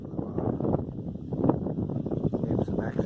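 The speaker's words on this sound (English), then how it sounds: "That wind's coming off that cold lake water." Wind blowing in off a cold lake on a late-winter walk, a low rumbling buffet against the microphone that gusts steadily throughout, with muffled sounds of movement underneath.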